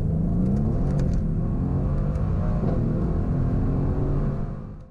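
A Mercedes-AMG C63 V8 accelerating hard on a wet road, a loud, steady, rising engine roar with rumble that fades slightly at the end.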